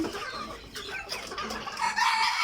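Three-month-old Fayoumi chickens clucking steadily at close range, with a rooster-like call rising near the end; no voices.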